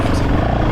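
Honda CRF 450 RL dirt bike pulling hard in third gear from near a dead stop on a trail ride: a brief, loud, steady engine roar close to the rider.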